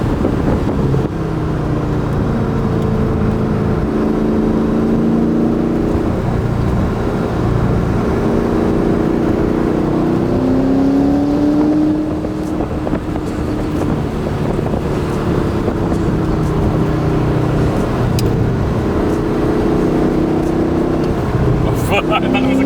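A Ford GT sports car engine drones and shifts pitch continuously as the car drives the Tail of the Dragon mountain road, loud under heavy wind rush.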